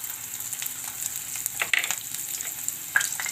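Quiet, steady sizzling of ginger frying in hot oil with cumin and garlic, with a few soft scraping stirs and sharp crackles.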